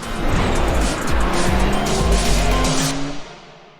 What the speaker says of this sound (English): the engine's clearly revving sharper than before